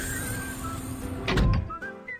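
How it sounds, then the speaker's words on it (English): Elevator door sliding with a thunk near the middle, set among whistling tones, close and moderately loud with no talking. "An elevator."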